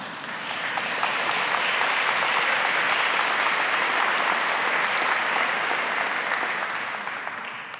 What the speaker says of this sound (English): money was applauded in Sacred Heart Chapel for the first time in our history